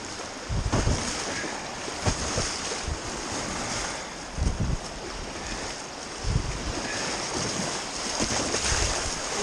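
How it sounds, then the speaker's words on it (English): Rushing water and wind noise fill the scene, with periodic low thumps and splashes as large river waves in a canyon on the Nahanni River hit a canoe. "Look at them, big waves, big waves."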